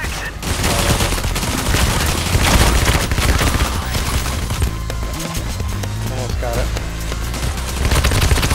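Dense, sustained gunfire from several weapons in the heist shooter Payday: The Heist, loud and continuous throughout with other game noise layered underneath.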